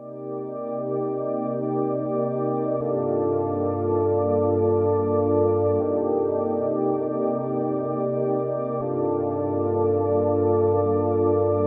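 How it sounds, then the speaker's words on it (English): The Diva synth's Deep Space Diva pad preset holds warm, sustained minor 9th chords that change every few seconds, forming a smooth, even wash of sound with no talking. "So I open up this plugin which is called Diva, and I'm using the first preset, which is Deep Space Diva"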